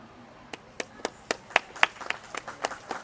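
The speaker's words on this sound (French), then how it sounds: "j'invite vraiment l'assistance à les applaudir." Audience at a ceremony handing protective kits to hospitals in the DR Congo gives scattered, sparse claps, a few distinct hand claps that grow slightly denser over three seconds in a fairly quiet room.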